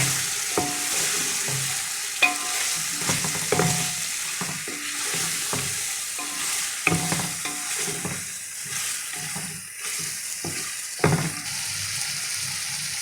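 Boiled eggs and fried potatoes get stirred through a frying masala, a soft sizzle under repeated sharp clinks and scrapes of a spoon against the pan at an uneven rhythm, close and without speech.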